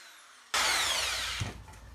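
A power drill spins a Scotch-Brite pad against the inside of a Land Rover Defender 90 differential housing, starting abruptly with a loud, steady abrasive whir that eases slightly before a brief knock near the end.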